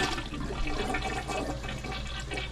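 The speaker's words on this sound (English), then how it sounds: "Give it a flush." Household toilet flushing just after a fill valve repair, a loud, close rush of swirling water that stays steady throughout.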